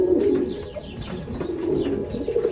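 A racing pigeon coos repeatedly up close, soft throaty calls rolling in a steady rhythm.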